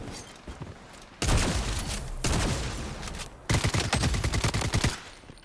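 Full-auto SKS rifle fire in the shooter game Blood Strike, three loud sustained bursts of rapid shots separated by short pauses, close and dominating, with no talking over them.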